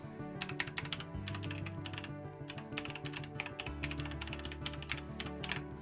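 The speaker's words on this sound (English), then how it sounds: "if I type in" A website address typed on a computer keyboard: a steady run of close, crisp key clicks in bursts, with low tonal hum or music running underneath throughout.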